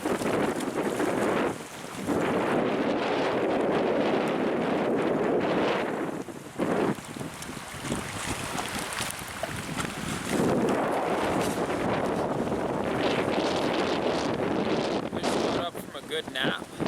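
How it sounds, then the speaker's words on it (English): A hard north wind roars at a wilderness camp in Temagami, loud, steady gusting buffeting the microphone with brief lulls, and a voice speaks faintly at times. "Hard north wind rolled in while I was napping though"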